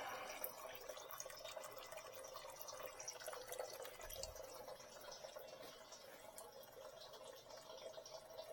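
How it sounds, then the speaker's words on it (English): Steady trickle and drip of motor oil draining from a 2021 Dodge Durango during an oil change, a continuous low liquid splatter that stays faint and even throughout. "just to get the oil completely drained down to where we need it"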